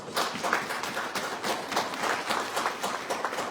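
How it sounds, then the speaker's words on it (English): Audience applause after a public announcement, a brief, moderately distant burst of many hands clapping in a dense, continuous patter with no voices over it. "that deserves a round of applause"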